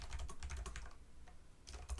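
Quick bursts of typing on a computer keyboard, close and crisp, with a brief pause in the middle before another flurry of keystrokes.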